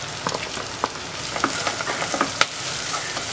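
Chopped onions and green chillies sautéing in a pan give off a loud, continuous sizzle, broken by sharp clicks and scrapes as a spoon stirs them close by.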